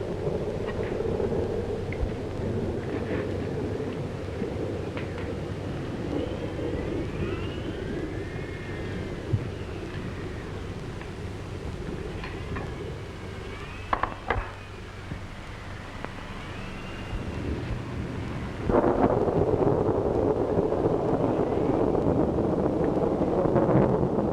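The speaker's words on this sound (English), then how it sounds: "Well, this is a storm and a half." Film soundtrack of a howling storm and wind in an old dark house, a steady roaring wash with rising whistling gusts and a louder surge near the end, no talk.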